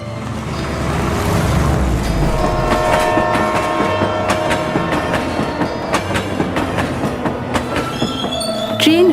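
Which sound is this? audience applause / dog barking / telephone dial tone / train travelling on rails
train travelling on rails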